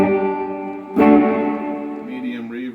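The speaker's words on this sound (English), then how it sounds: "Large reverb." Sustained guitar notes ring through the large reverb setting of a Crate V5212 amp, with a fresh strummed chord partway through and a long washy tail, loud and without talk.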